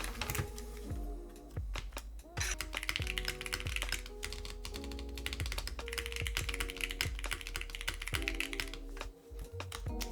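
Steady, rapid clacking of keys on a Ducky One X Mini mechanical keyboard, close up, with occasional louder thock-like strikes in an uneven typing rhythm.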